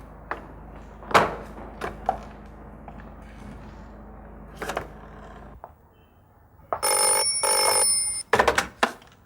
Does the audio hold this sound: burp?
no